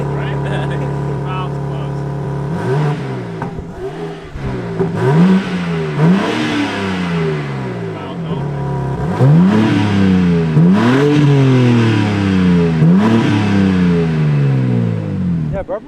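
Stock exhaust on a BMW G80 M3 with large tips, revved repeatedly: a steady idle drone, then a series of sharp rising-and-falling blips, loud and close, with people talking intermittently over it.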